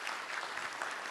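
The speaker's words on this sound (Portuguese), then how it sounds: "Eu peço uma palma de palmas." A ceremony audience claps at a São Paulo installation ceremony for a board and fiscal council, heard as a faint, steady patter of applause that sounds distant.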